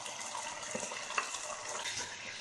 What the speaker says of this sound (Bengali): মসুর ডালটাকেও এবার আমরা কিছুক্ষণ ভালো করে কষিয়ে নেব।